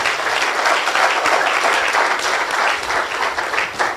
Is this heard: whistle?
no